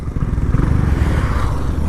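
A motorcycle engine turning over and running after a stall, a loud close low rumble with uneven chugging pulses and some rattling.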